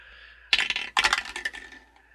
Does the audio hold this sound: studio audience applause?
no